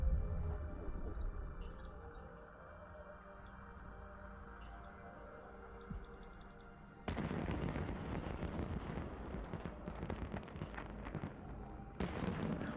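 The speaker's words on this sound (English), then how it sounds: "Those fireworks sound effects." Video game fireworks go off as loud crackling, popping bursts, first sparse and then a dense, sustained barrage that sounds close by.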